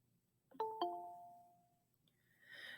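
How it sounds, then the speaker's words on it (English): A two-note electronic doorbell chime from Google Meet, signalling a request to join, rings once, the tones decaying slowly, with a faint hiss of noise rising afterward. "There's a little doorbell sound"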